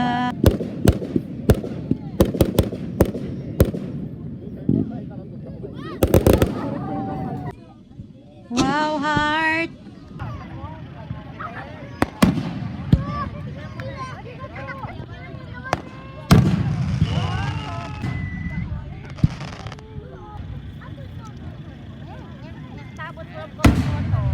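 A hanabi fireworks display in Japan bursts in a long series of sharp cracks and booming pops, some spaced and some in rapid clusters, heard from a moderate distance while people chat and exclaim.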